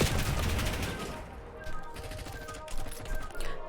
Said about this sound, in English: I'm kind of just hip firing until I'm done.